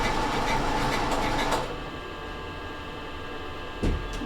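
Industrial sewing machine stitching, a loud continuous motor whir that stops after about a second and a half, followed by a low hum and one brief knock near the end.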